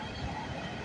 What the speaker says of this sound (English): Symbol on this train is CN A434.